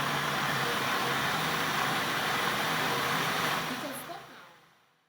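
An electric mixer whisks eggs with vanilla sugar in a bowl at medium speed, giving a steady close whirring hum that fades and stops near the end.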